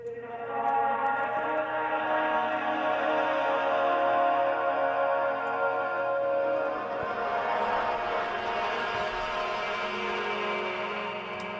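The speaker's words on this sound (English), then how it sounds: "Alright, next we have the vocal effects." Sustained processed vocals through Ableton 11's Hybrid Reverb with a lush, spacious reverb tail, steady and fairly loud throughout with layered harmonic tones.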